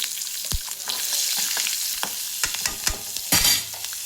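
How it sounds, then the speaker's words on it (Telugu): Curry leaves and chopped green chilli frying in a hot pan for pachi pulusu, a close, steady sizzle and crackle broken by sharp pops and spatters, with no talk. "నెక్స్ట్ కరివేపాకు, అలాగే ఒక పచ్చిమిర్చి ముక్కలుగా కట్ చేసి ఇలా వేసుకోవాలి"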